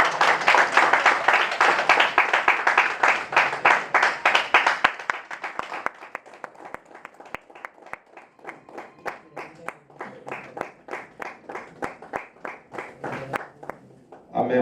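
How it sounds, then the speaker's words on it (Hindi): At a Uttarakhand community association ceremony honouring a state legislator, a crowd claps to welcome a guest: several seconds of dense, hearty applause, then it thins into scattered, distinct, rhythmic claps that continue for a while. "जोरदार तालियों के साथ स्वागत।"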